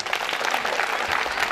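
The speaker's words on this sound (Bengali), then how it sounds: "ওনার জন্য একটা করতালি" Brief burst of audience applause for a woman who answered a quiz question at a debate talk, dense steady clapping throughout.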